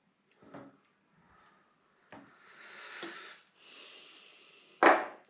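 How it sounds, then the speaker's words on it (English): Wooden floorboards creak underfoot in a quiet room, with a few separate groans and strained squeaks, some drawn out, and a sharper louder creak at the end. "the floorboards are creaking here"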